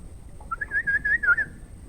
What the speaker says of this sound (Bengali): অসাধারণ পরিবেশ, চারিদিকে পাখির ডাক